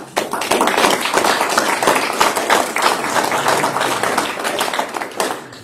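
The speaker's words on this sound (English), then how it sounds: "Then we need to give them a hand." Audience at a Lexington city alderman meeting applauding players, a dense round of clapping from many hands that holds steady for several seconds, close and fairly loud, with no talk over it.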